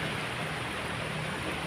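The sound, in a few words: rain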